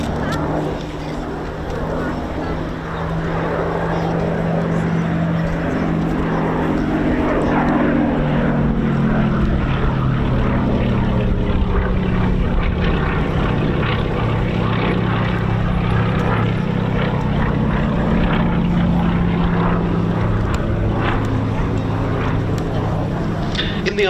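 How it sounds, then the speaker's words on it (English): A British-built 1941 Westland Lysander propeller aircraft drones steadily at an airshow, its engine a loud, continuous throaty hum with a wavering pitch that dips and rises as it runs. "This is the only airworthy British-built Lysander"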